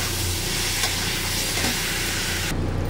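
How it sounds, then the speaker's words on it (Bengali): Crushed tomato and ginger paste hits a hot pan of oil and turmeric while cooking potol with paneer, giving a steady, close sizzle and frying hiss that fills the whole moment without talk. "এখানে আমি একটু টমেটো করে রেখেছি, পিষে রেখেছি, আর একটা আদা পিষে রেখেছি। এই দুটো আমি এতে দিয়ে দেবো।"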